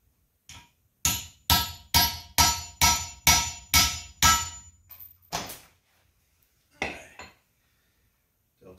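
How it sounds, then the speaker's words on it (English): A Delta 3V steel knife is struck repeatedly through a 1/4-20 steel bolt, producing about eight sharp, ringing metallic clangs in an even rhythm, followed by a few scattered lighter clinks, close and loud. "Delta 3V will go through a 1/4-20 bolt without any real damage"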